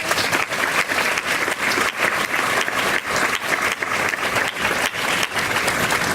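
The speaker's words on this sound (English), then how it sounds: "Let's give them all a round of applause." Audience at an alumni recognition brunch gives a loud, sustained round of applause, dense continuous clapping filling the room without speech.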